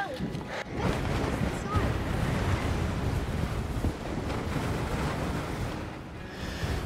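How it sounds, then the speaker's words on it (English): Strong wind buffeting the microphone at the exposed northern tip of Cape York by the sea, a constant loud rumbling roar with gusting swells. Surf sounds blend in and people talk briefly. "And it's so windy."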